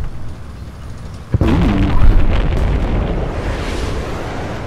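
A JDAM bomb blast in the video game Battlefield Bad Company 2: a sudden sharp boom strikes after a quiet stretch of wind-like rumble, then swells into a loud, sustained roar and rumble that slowly settles.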